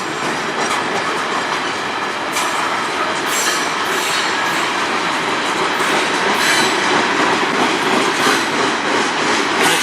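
A freight train over 12,000 feet long rolls steadily past nearby in Sarnia, Ontario, a continuous loud rumble with clacking wheels and occasional metallic squeals.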